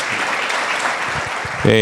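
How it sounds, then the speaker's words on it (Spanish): A church congregation claps together in dense, steady welcome applause at close range, ending with a brief musical tone. "vamos a darles un aplauso de bienvenida"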